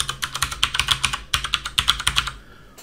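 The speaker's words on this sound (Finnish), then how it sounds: "Klikataan siihen ja kirjoitetaan tähän" Someone types a coupon code on a computer keyboard, a quick run of close, crisp key clicks that pauses briefly midway and then continues, with no talking.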